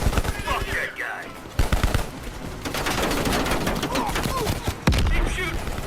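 Rapid bursts of automatic gunfire and single gunshots in the shooter game Call of Duty: Black Ops Cold War, close and loud, with a few sharp louder blasts mixed into the steady firefight.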